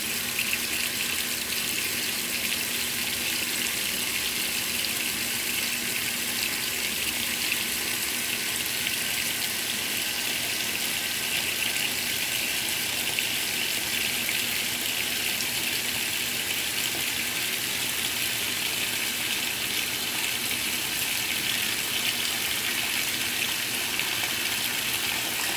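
Washing machine drawing a mix of hot and cold water during a whites cycle, a steady close rushing gush that runs unbroken and even the whole way, with no voices.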